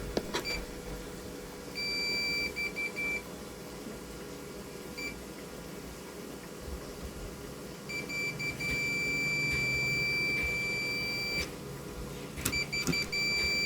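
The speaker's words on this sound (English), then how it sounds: "Beep means possible short circuit." A multimeter in continuity mode beeps while testing shorted rectifier diodes, with several steady high tones of varying length, some brief and some sustained for a few seconds, over a faint electrical hum and handling clicks.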